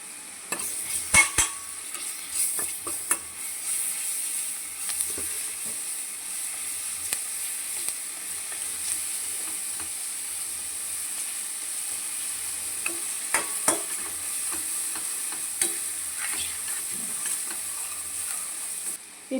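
Onions frying with ginger garlic paste in a pan, a steady close sizzle throughout with scattered scrapes and taps of a spoon stirring, no voices.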